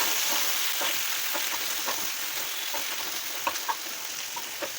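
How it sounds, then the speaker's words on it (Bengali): Sliced onions with ginger and a pinch of salt fry in a pan, giving a steady, loud sizzle with occasional stirring scrapes and no talking. "দিয়ে এটাকে আমি একটু ভাজা ভাজা করে নিচ্ছি।"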